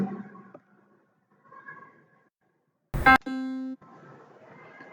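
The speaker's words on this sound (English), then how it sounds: "So this is the sound of piano." A single synthetic piano note from the Scratch programming tool's sound block rings out, struck sharply and held for a moment, between stretches of faint, quiet background tones.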